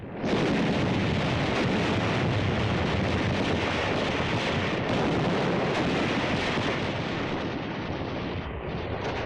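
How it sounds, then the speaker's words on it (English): Dense, continuous World War II combat fire with rifle shots and mortar blasts blurs into a roaring wall of sound from start to finish, with no breaks between the rapid reports. "Our rifle fire is deadly. So are the flamethrowers and the mortars."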